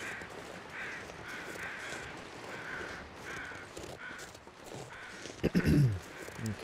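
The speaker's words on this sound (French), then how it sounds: "On va aller voir quand même les corbeaux vite fait." Repeated crow caws sound through a snowy wilderness in the survival game The Long Dark. They come in steady bursts over a low background, and a louder, nearer rustle breaks in near the end.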